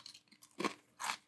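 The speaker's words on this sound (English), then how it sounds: "Lots of crunch." Dry Special K Iced Vanilla Latte cereal flakes and clusters crunched between the teeth: two or three close, crisp bites spread over a second, with no talking.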